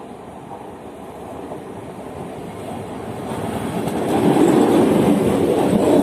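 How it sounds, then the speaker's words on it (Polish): A Regio passenger train from Szczecin Główny to Kołobrzeg rumbles into a station platform with a rising roar and clattering wheels, growing louder as it draws close and rolls past. "Wjeżdża pociąg Regio relacji Szczecin Główny, Kołobrzeg."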